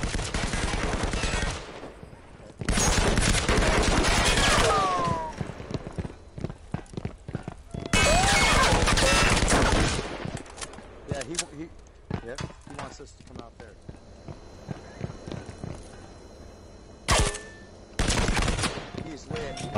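Gunfire in a competitive 2v2 shooter video game, loud bursts and rapid volleys in separate clusters, mixed with hoof-like clatter and other game effects, with talk in between.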